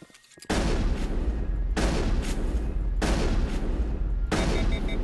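Sustained automatic gunfire in the Mass Effect video game comes in long loud bursts, with about four volleys separated by brief breaks.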